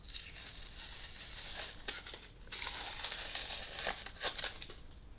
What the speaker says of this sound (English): let me see if I can peel off some of this